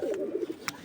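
A tagged racing pigeon coos in short, soft throaty bursts while held in someone's hands, close by, with a brief rustle partway through.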